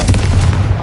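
A fire-blasting Confringo spell in Hogwarts Legacy detonates in a short, loud, booming blast with heavy low rumble and no voice over it.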